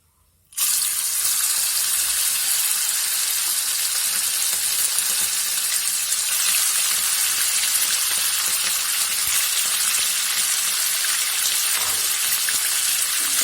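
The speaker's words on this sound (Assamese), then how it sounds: "এয়া তেলখিনি গৰম হৈ গ'ল। ইয়াতে এতিয়া আমি চিকেনখিনি দি দিম।" Marinated chicken lands in hot oil at home, setting off a loud, dense sizzle that starts abruptly and holds steady and close to the end, with no talking.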